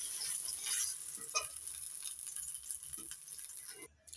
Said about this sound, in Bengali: সব কটা সজনে ডাটা মুচমুচি করে ভেজে